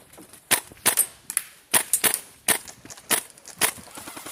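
Airsoft guns firing suppressive fire on an outdoor field at Fort Knox, Belgium, a rapid irregular string of sharp, loud cracking shots, some in quick doubles, with no talk.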